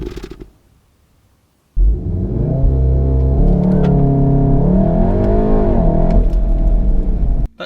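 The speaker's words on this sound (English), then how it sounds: "This is what the engine sounds like when you turn it off" A 2016 VW Golf R 2-litre petrol engine runs steadily and close for several seconds after a quiet gap, then stops abruptly as it is switched off.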